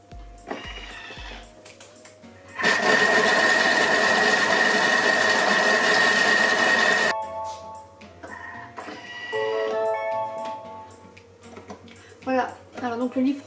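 A Thermomix blends white beans at speed 4, a loud, even whirring roar lasting about four seconds before cutting off abruptly, with voices talking before and after.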